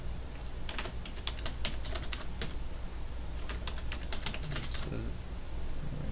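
Rapid clicking keystrokes on a computer keyboard come in two quick bursts as a password is typed during Linux Mint setup, close over a steady background hum.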